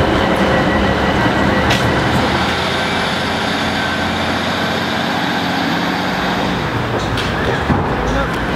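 A train runs loud and close at Kenilworth station, giving a continuous rumbling roar with rail clatter and a high whine. Voices talk over it.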